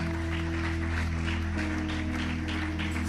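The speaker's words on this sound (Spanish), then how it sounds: "Un aplauso fuerte al Señor." A church congregation applauding the Lord, a sustained wash of steady clapping from many hands over a droning organ or keyboard chord, even and loud for the whole stretch.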